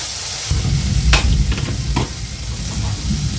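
Spices and a green chilli frying in a pan for cholar dal, a continuous close sizzle broken by a few scraping stirs of a spoon against the pan.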